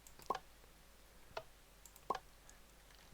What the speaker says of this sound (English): That is the sound of a chicken laying an egg